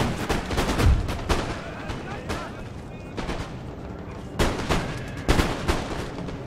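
Musket volleys and artillery fire from Empire: Total War, with a Prussian army fighting on the Rhine. Several loud, sharp bursts of gunfire crack out at irregular intervals over a rumbling battle din, and someone talks throughout.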